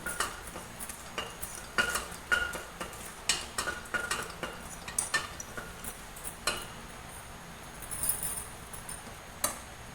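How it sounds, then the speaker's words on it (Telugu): Dry red chilies with mustard and cumin seeds roast in an AMC pan, with soft scattered clinks and scrapes of a spatula stirring over a faint sizzle, close and quiet, no talk. "కొంచెం ఎండుమిర్చి, కొంచెం రోస్ట్ చేస్తున్నాం వీటిని."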